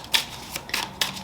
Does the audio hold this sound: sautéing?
no